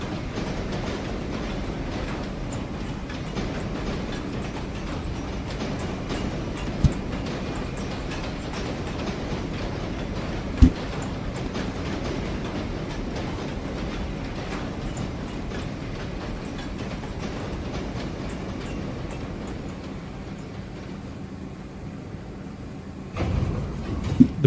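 A subway train rolls along rails in a Minecraft build of the New York City subway, a steady mechanical rumble with faint clicking and clacking over the track that holds for the whole stretch, easing and picking up again near the end.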